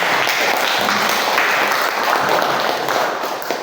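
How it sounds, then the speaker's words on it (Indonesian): Classroom applause for a student who has just solved a physics problem on rope tension, a dense, steady round of clapping from many hands that fills the room evenly from start to finish. "Kita tepukkan."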